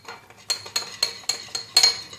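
Ingredients are mixed with clove powder and olive oil in a bowl, heard as six evenly spaced metallic clinks of a utensil against the dish, close and fairly quiet.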